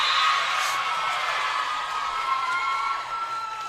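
Spectators at a high school volleyball match cheer loudly and steadily, a dense wash of shouts and whoops from the crowd filling the gym for several seconds.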